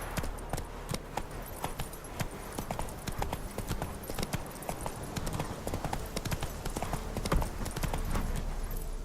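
Horse hooves clip-clop in a rapid, continuous gallop across the ground in The Witcher 3: Wild Hunt on PS4, close and steady, with faint jangling tack.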